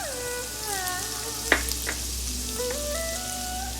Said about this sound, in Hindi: अनियंस एंड कैरेट अच्छे से फ्राई हो गए हैं